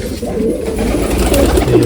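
Domestic pigeons cooing in a loft where several pairs are sitting on eggs, a dense, continuous murmur of overlapping low coos from many birds close by.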